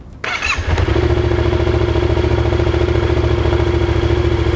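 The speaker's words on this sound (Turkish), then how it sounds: "Onun için motoru bir 2-3 dakika çalıştırıyoruz" A motorcycle engine starts and settles into a steady, loud idle with an even, throbbing rhythm, run for a few minutes after an oil and oil filter change to check for leaks.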